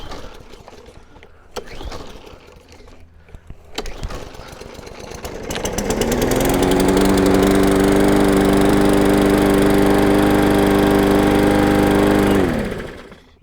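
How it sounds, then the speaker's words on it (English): A Craftsman M100 lawn mower being pull-started: a couple of sharp recoil tugs, then the engine catches and runs at a loud steady drone for several seconds before shutting off. "you saw it took me about 3 to 4 pulls to go ahead and get that lawnmower cranked up"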